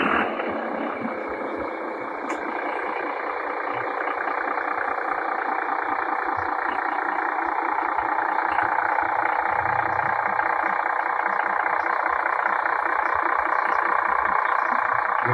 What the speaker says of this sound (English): We'll listen to the sound of the V6.